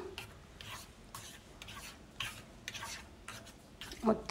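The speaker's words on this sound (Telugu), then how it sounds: "ఇలా మొత్తం యాడ్ చేసుకొని స్మూత్గా కలుపుకోవాలి." Mango paste being stirred smoothly into a kulfi mixture with a utensil, giving soft, repeated rasping scrapes against the bowl at a steady rhythm, fairly quiet, with a slightly louder clatter at the end.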